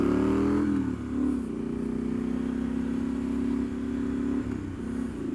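A 2018 Triumph Street Scrambler motorcycle runs steadily while being ridden, its mid-pitched engine drone loud and close with a few brief dips and surges in throttle, and no one speaking.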